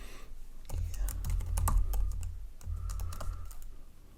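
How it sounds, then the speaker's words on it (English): Password typed on a computer keyboard while connecting to a server, heard as a quick burst of soft, close key clicks in irregular rhythm, with a pause in the middle before a second run of keystrokes. "If I can type my password correctly"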